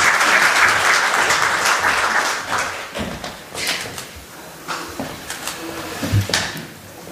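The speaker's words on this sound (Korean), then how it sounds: "뜨거운 박수로 맞이해 주시기 바랍니다" An audience at a Korean public forum on election polling standards applauds warmly, loud sustained clapping that fades into scattered claps and thumps as a guest speaker is welcomed.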